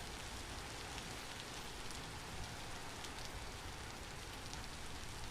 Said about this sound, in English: It is a beautiful rainy day.